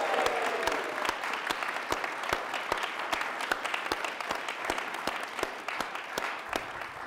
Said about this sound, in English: let's do a practice round of applause